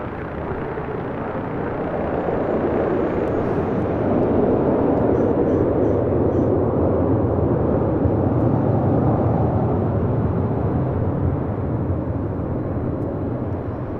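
A jet airliner on approach or departure at LAX, a loud, broad roar that swells and holds steady for the whole stretch, heard from a distance outdoors with no speech over it.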